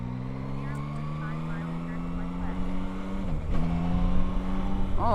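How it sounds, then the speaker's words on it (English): Yamaha Tracer 9 GT motorcycle engine humming steadily while riding, its pitch climbing and dipping through gear shifts under wind noise and a rider's talk. "Oh, this bike sounds awesome."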